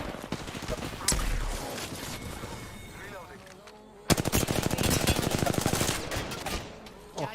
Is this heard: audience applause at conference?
no